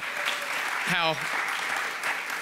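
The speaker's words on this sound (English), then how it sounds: "Let's give them a round of applause" Applause for panelists at a university ethics and civility conference, a broad steady patter of many hands clapping, with one voice briefly speaking over it.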